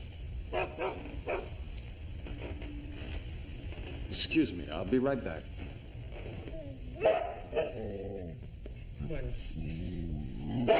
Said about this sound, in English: Stupid dog. Stupid dog. Stupid. Get out of the way.